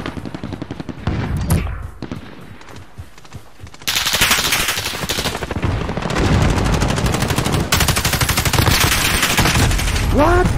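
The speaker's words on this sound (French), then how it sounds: "Mais combien de balles tu veux lui mettre?" Sustained rapid machine-gun fire rattles through a Call of Duty Modern Warfare multiplayer match, loud and dense bursts running almost continuously with a brief lull, then heavier volleys near the end.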